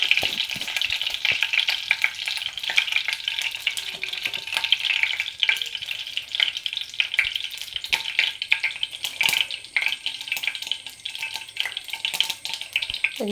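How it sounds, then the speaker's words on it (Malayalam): Mustard seeds fry and crackle in hot oil, a bright sizzle scattered with sharp pops and occasional stirring clinks, close and continuous with no talking. "കടുക് ഇട്ട് കൊടുത്ത്"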